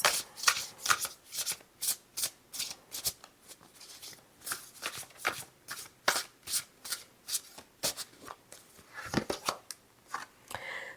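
A deck of tarot cards is shuffled over and over, close and fairly quiet, making a steady run of riffling, slapping bursts with short pauses between them.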